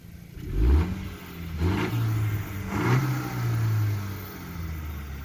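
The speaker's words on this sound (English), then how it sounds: "Go ahead and rev it, Lalo." A 2020 Honda Civic Si with its stock air intake revs from idle in three quick swelling pulls, the engine note rising and falling loudly up close, with no talking over it.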